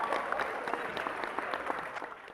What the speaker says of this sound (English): I would like to give our wolf a round of applause.